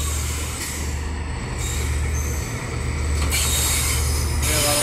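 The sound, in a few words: train passing by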